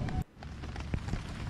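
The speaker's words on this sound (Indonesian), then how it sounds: "Oh, hujan. Hujan." Rain falling outdoors in Malaysia, a soft, faint steady patter with a few scattered louder drops, no voices.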